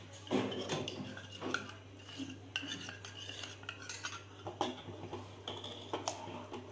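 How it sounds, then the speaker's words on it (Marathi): A spoon stirring jowar flour ambil in a pot while flour is poured in, with irregular clinks and scrapes against the metal that sound quiet and close. "आता पीठ वतत वतत हे ढवळायचं"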